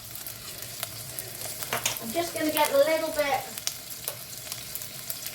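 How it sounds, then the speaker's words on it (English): Garlic and miso paste sizzling and being stirred in a pan, with a steady crackle and brief scraping that grows busier midway, while a person talks over it. "We're going to cook this miso down. Just break it down with the garlic."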